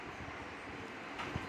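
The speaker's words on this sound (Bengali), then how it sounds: "ট্রেন অনেক জোরে যাচ্ছে" A fast-moving train heard from inside a carriage gives a low, continuous rumble and steady rolling rattle, fairly faint, with no voices.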